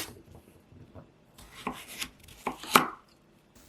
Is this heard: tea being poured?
no